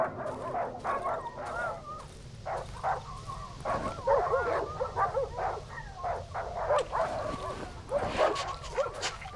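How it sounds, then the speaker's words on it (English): Dog in the survival horror game Darkwood barks and yips repeatedly in irregular bursts, with some whimpering mixed in, fairly close and clear over a low rumbling background. "There's a dog out there now"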